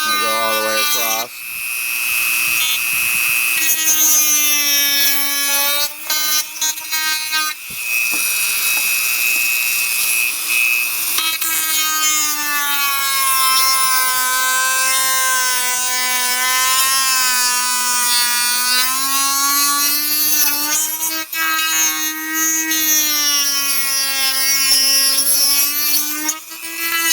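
A Dremel rotary tool cutting through wooden craft sticks, giving a loud, high whine that wavers in pitch as it bites into the wood, with a few brief pauses between cuts.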